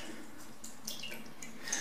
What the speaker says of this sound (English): Now I'm just going to pour that into my mixer.